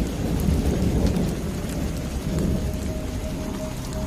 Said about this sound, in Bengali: খুব ঝড় বৃষ্টি শুরু হয়।